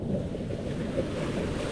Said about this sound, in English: Amazing beach with huge waves here in the Porto region.